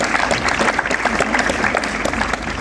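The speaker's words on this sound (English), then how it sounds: "Clap for Jesus." A church audience claps together in a dense, continuous patter of many hands, moderately loud and steady throughout.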